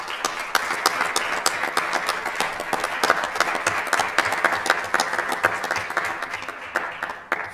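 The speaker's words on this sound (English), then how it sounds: "Let's give them a round of applause, guys." Audience at a Lynn city council meeting gives a steady round of hand clapping, dense and fairly close, sustained throughout with scattered sharper claps.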